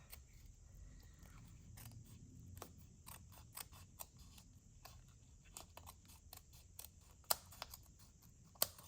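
Scissors trim excess paper off a scrappy journal page in a string of quiet, sharp snips, irregular and close, with a few louder clicks near the end.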